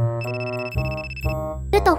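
A phone ringtone plays a repeating electronic melody of bright stacked tones, fairly loud and close, during an animated comedy skit set at a baseball game in a stadium, with a brief burst of other sound near the end.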